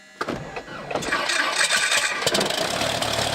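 A Cessna 172 four-seat airplane engine cranking and catching, a few sharp starter coughs giving way to a loud, steady running roar that holds to the end.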